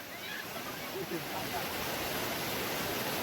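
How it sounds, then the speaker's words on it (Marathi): Donawade waterfall roaring with loud, steady rushing water, a broad unbroken wash of noise close at hand, with a voice faintly heard beneath it. "पाण्याचा आवाज बघा किती मोठा येतोय"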